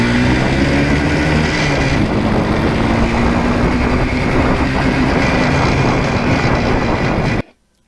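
A Yamaha RD 400 motorcycle fitted with new Mikuni carburetors rides on an open road, its engine drone loud and steady with heavy wind rush throughout, then cutting off abruptly near the end.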